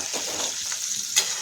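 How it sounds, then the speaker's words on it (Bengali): Chicken pakoras deep-frying in a wok give a steady, close crackling sizzle with a brief louder burst of spatter near the end, with no voices. "লাল লাল করে পকোড়াগুলো ভাজা হয়ে গেছে"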